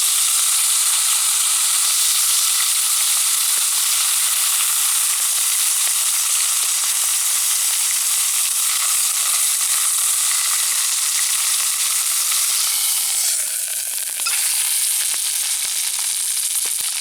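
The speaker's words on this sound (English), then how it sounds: "I got a real nice roast here for lunch." A roast sizzles steadily over a wood fire inside a hot tent in snowy winter, a continuous close, loud frying hiss that runs unbroken, with a brief shift in tone near the end.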